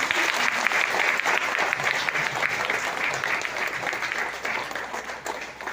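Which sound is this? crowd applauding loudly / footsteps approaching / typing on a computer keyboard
crowd applauding loudly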